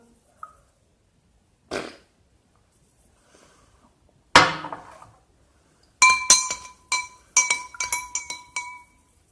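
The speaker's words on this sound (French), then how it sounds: "Et là, je vais mélanger." Glass clinks while liquid is stirred in a glass, starting with a few isolated taps and a sharper knock, then turning into quick bursts of bright ringing clinks near the end, close and clear, with no talking.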